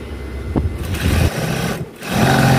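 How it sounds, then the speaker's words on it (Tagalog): An old original Brother sewing machine runs with a steady, loud mechanical whir, briefly easing and then picking back up, close by with no talk. "Sinaunang makina po, mga brother po yun, original."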